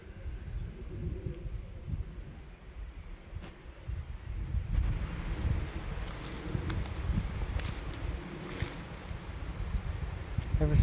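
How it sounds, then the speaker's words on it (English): Wind blowing through trees outdoors, a constant low rushing roar that swells louder partway through, with faint rustling and scattered light knocks over it. "The wind blowing in the trees."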